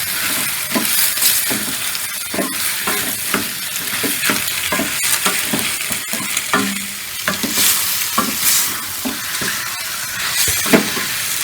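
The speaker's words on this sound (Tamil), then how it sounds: "இப்போ நம்ம இந்த கட் பண்ணி வச்ச ரத்தத்தை போட்டு போதில்ல, நல்லா மிக்ஸ் பண்ணி விடுங்க." Cut goat blood being stir-fried for a Tamil pepper fry, with a utensil scraping and tapping the pan in quick, uneven strokes over a steady close sizzle; no talking.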